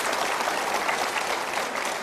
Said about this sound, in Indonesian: Kita berikan tepuk tangan untuk Anda yang sudah menjawab.